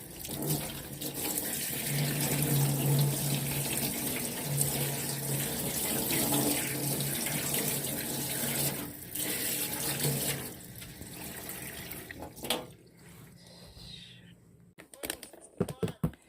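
Grapes washed under a running tap in a sink, a steady close stream of water for most of the time, then handling clatter and rustles after the flow stops; a voice is briefly heard.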